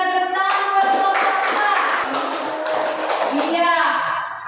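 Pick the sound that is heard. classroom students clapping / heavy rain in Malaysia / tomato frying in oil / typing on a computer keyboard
classroom students clapping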